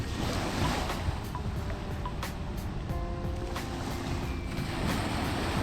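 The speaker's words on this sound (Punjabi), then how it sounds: "ਦੇਖੋ ਕਿ ਮੈਂ ਲਹਿਰਾਂ ਬਣ ਬਣ ਆ ਰਹੀਆਂ ਨੇ" Soft, continuous wash of river water lapping against a sandy bank during a flood at Harike, Punjab, with a low rumble of wind and a few faint clicks, no talking.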